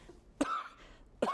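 Two sharp, close coughs separated by a short pause, each a harsh burst with a throaty tail, in a quiet room.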